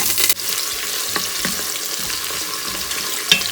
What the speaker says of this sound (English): Time to add some onions,